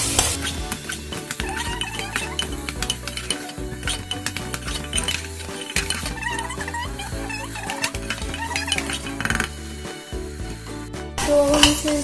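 Vegetables and spices for khichdi pulao fry in a pan while being stirred, a continuous loud sizzle with clinking spoon scrapes against the metal, close up and steady throughout.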